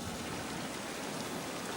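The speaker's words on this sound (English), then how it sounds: "And hear it all splashing away" A dense, steady rush of water splashing down the Woronora Dam spillway, loud and unbroken like a torrent pouring down.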